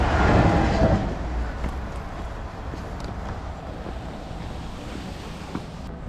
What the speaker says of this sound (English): There's a train going right there.